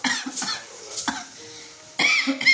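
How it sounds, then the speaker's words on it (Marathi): Several sharp, close coughs in quick bursts, one person hacking and clearing the throat from spice tempering fumes in a home kitchen, with a short pause in the middle. "फोडणी दिली. घरातले ठसका उठला"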